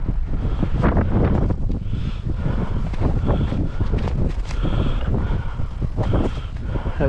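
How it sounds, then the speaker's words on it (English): Strong wind buffets the microphone in steady, loud gusts, a constant low rumble and roar with no talking, outdoors over snow and ice during winter beaver trapping. "Windy"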